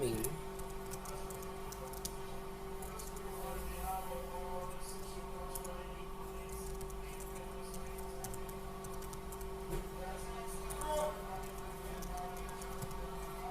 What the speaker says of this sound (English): I'm going to be typing the title of my ebook